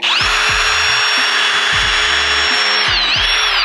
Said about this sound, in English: I like to pre-drill my holes before I put the screws in